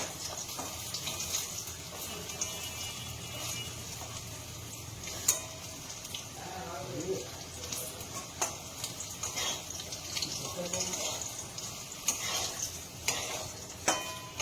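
Raw banana slices frying with asafoetida in hot oil, making a steady close hiss and sizzle with scattered light clicks and scrapes of stirring throughout, and no voices.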